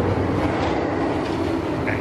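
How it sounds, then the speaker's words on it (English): Continuous rumbling, rattling roar of the Test Track ride vehicles running at Epcot, fairly loud and steady throughout with no break. "What you hear over there is Test Track going"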